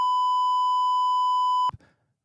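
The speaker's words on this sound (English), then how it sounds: "let me beep it out just so Jake has the beep in case he has to." A single steady censor beep, a pure electronic tone held for under two seconds and cut off abruptly, followed by a brief faint thump and silence.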